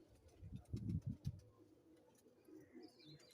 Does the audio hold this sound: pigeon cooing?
yes